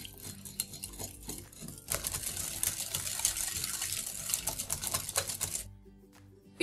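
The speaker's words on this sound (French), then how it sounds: "Et on mélange au fouet." A whisk beating muffin batter of milk and egg in a bowl, rapid rhythmic clinking and sloshing that builds in intensity midway, then stops abruptly near the end.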